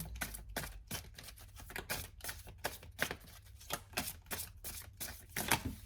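Tarot cards riffled and shuffled in a rapid, crisp run of close flutters and snaps, a quick card draw at the end, with no voices.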